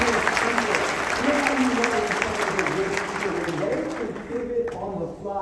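A crowd at a Microsoft event claps for a team member, a broad, sustained wash of applause that thins slightly toward the end, with faint voices and a low tone running beneath.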